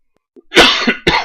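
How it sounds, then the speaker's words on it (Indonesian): A single person coughs twice in quick succession, close and sharp, after a brief silence. "Maaf ya, ada sedikit batuk."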